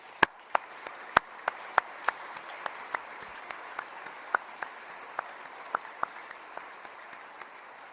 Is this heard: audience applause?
yes